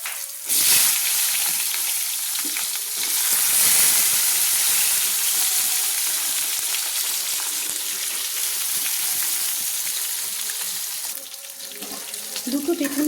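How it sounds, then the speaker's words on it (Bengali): Two thin-cut eggplants sizzle in a pan already used for frying mourola fish, a loud, steady close hiss of hot oil with occasional crackles and brief clatter, continuing without pause. "মোরলা মাছ ভাজা কড়াইতে আমি ভেজে নিচ্ছি 2টো বেগুন।"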